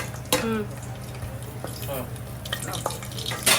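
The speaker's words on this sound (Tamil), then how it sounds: "வதக்குறது தானே." Ingredients for a Tamil Nadu style chicken dum biryani being sautéed in hot oil, with a steady low sizzle and scattered stirring scrapes and clinks against the pan in a home kitchen.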